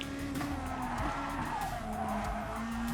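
A car drifts in the GT Sport racing game, its engine droning steadily under continuous tire squeal and skidding noise, loud and sustained with no talk.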